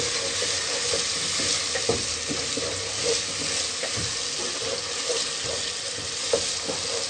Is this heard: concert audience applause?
no